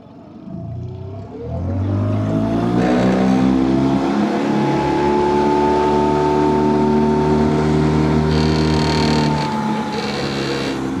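A small boat outboard engine revs up from idle and accelerates hard, its rising drone loud and close, holding a steady high whine as the craft speeds across the water at night.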